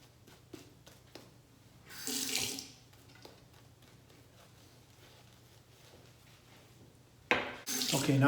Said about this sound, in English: Just a slight rinse.